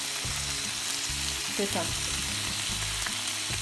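Veal filet mignon and tomatoes fry in a large pan with a steady close sizzle and crackle, while a voice speaks briefly over it.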